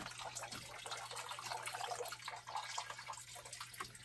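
Water trickles and drips steadily through a DIY aquarium trickle bio filter filled with bio balls and activated carbon, a soft, continuous, close splashing patter with no talk.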